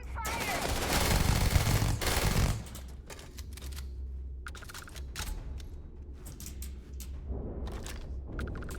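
Gunfire in the Starfield video game: a dense, loud burst of rapid shots for roughly the first two and a half seconds, then scattered lighter pops and clicks continuing under game ambience.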